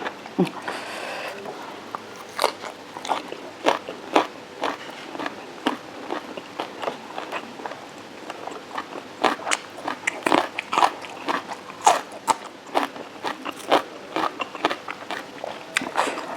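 Biting and chewing on fermented pork wrapped in banana leaf, heard as a steady run of close, crisp crunches and chews over about sixteen seconds, with a brief stretch of talk near the start.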